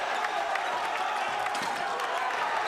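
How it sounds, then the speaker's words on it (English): A high school basketball crowd at a Bergen Catholic versus Don Bosco game roars after a three-pointer, a steady, dense wash of cheering and clapping filling the arena throughout. "He splashes down a 3, and this crowd erupts."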